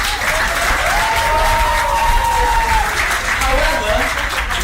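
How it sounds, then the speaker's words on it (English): Steady audience applause at a talk, a continuous wash of clapping throughout with a faint whistle-like tone drifting over it. "Give yourselves a round of applause for getting that one right."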